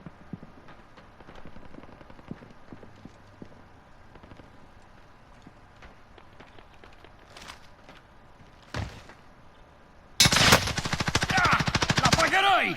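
Gunfire in the shooter game Warzone: scattered faint shots and footsteps give way to a loud, sustained burst of rapid automatic fire near the end.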